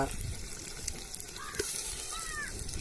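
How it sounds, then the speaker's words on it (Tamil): Curry leaves, coriander and mint sauté in oil in a home kitchen, giving a soft, steady sizzle with faint bubbling, with low voices in the background. "எண்ணெய் ஊற்றி பொன்னிறமாக வதங்கணும்"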